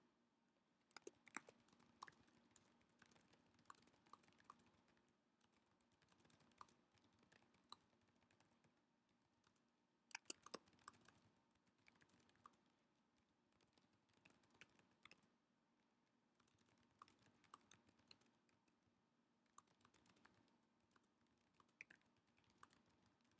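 Typing on a computer keyboard comes through as quiet, quick irregular clicks in bursts, with short pauses between runs of keystrokes.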